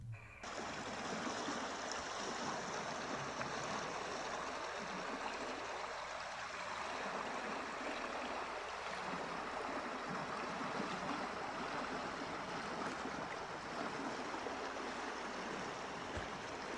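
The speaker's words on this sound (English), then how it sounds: "just check out just the sound of the river going by" A river flows past a winter campsite in a steady, close, broadband rush of moving water that holds even for the whole stretch, with no voices over it.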